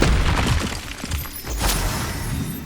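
A Confringo fire blast spell goes off in Hogwarts Legacy, a loud booming explosive burst with crackling debris layered over game ambience, sustained and dense across the whole moment.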